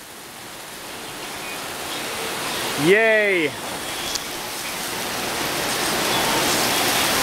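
Heavy rain pours down outside in a steady, dense hiss that holds unbroken throughout, and a single cheerful shout cuts through it briefly.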